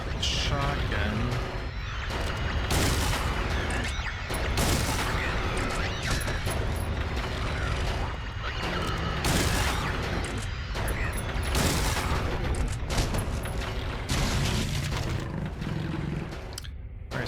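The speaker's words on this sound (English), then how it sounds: "I guess we're gonna have to use a shotgun" Shotgun blasts ring out in the video game Silent Hill 3, about seven heavy booms at uneven intervals over a constant growling, roaring game soundscape.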